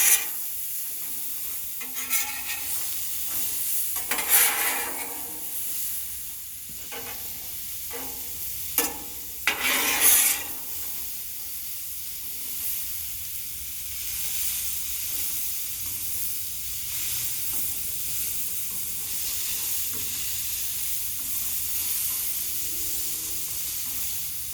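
Potatoes frying on a Blackstone 36 Pro griddle give a steady sizzling hiss. Scraping and stirring strokes come near the start, then the sizzle carries on alone for a long stretch.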